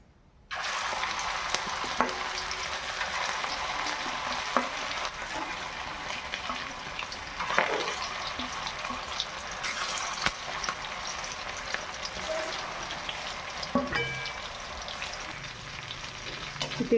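Mutton tikka pieces fry in a pan with a continuous close sizzle, while scattered clicks and light knocks of utensils sit on top and a few louder bumps and scrapes come partway through; nobody speaks.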